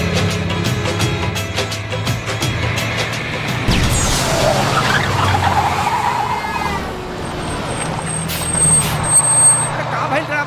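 A bus on an Indian road slows with loud engine rumble and a hiss of air brakes, then comes to a stop. The noise is close and heavy, and voices talk over it throughout.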